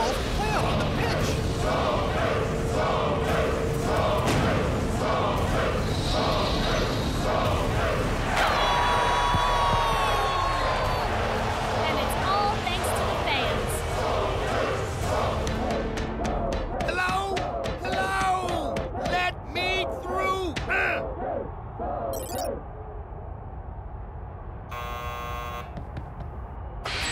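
A cartoon soccer match home crowd roars continuously and loudly, with a dense wall of noise under music and voices through the whole stretch, thinning slightly toward the end.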